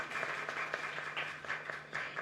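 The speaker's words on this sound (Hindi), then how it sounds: "आप लोग जोरदार तालियां बजा के उनका स्वागत कीजिए।" An audience at a national workshop for media and social media staff claps to welcome spokesperson Sambit Patra, a steady patter of many hands at moderate distance, held briefly under a faint hum.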